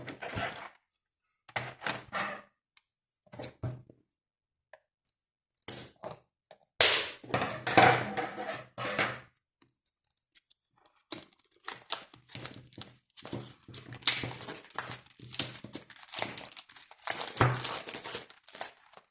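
Someone opens a heavy, small box holding cards for The Elder Scrolls: Betrayal of the Second Era card game. Quiet, intermittent bursts of crinkling, rustling and tearing come with occasional thunks, separated by stretches of near silence.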